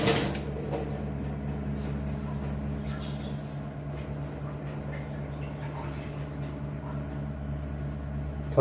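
Water flowing steadily into the tanks of an RO water filter being refilled after repair at home, a constant close trickle and hum with a brief splash at the start.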